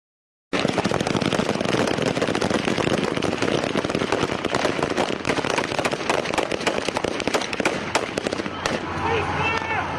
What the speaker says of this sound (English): Police opening fire on striking mine workers